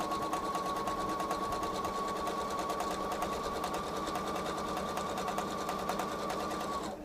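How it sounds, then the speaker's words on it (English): Steady, fast mechanical whirring of a sewing machine stitching fabric for a table runner, running unbroken and close for about seven seconds before slowing to a stop. "as I'm sitting here sewing this"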